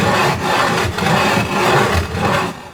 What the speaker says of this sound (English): you grind it to a very fine powder